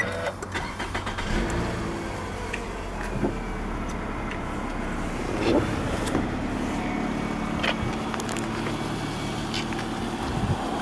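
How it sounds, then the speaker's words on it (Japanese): A 2009 Toyota Mark X Zio 2.4 Aerial starts and settles into a steady idle, its engine hum recorded close from inside the car, with scattered clicks and small handling noises. "エンジンをかけてみます。"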